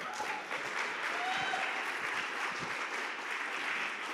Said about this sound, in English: Give God a hand clap.